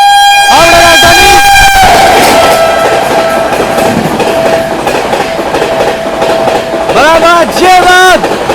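The 12306 New Delhi–Howrah Rajdhani Express thunders past up close while overtaking, its loud two-tone horn blaring at the start and again near the end over steady rolling rumble and wheel clatter.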